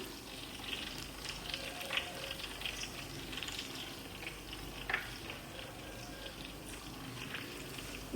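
Food deep-frying in hot oil gives a steady, faint crackling sizzle with scattered small pops, continuous and close, with no talk.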